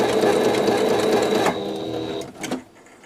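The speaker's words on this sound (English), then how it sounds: "I'm going to go back over it with a zigzag stitch." Sewing machine running a zigzag stitch on leggings, a loud close mechanical whirring hum for about a second and a half, then slowing and stopping with a final brief burst.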